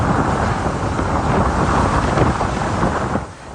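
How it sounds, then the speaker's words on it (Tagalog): Strong typhoon wind in Basco, Batanes roars and buffets the microphone as a continuous, loud, rushing noise that eases slightly near the end. "Ramdam sa mga bidyong kuha kahapon ang hagupit ng hangin sa Basco,"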